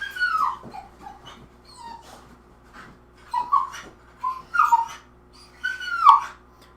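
A female puppy whimpers and whines while trying to jump over a 3-foot gate, giving a series of close, high-pitched, uneven whines and soft breathy yips with short pauses between them, with no talking.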